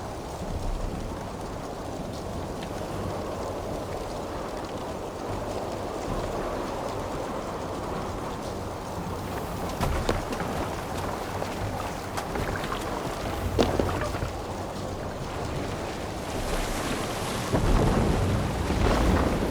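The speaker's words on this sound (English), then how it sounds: "Towards the eye of the storm!" Video game thunderstorm at sea aboard a boat, with steady wind and rain noise, low rumbling thunder, and water washing around the vessel, building louder toward the end.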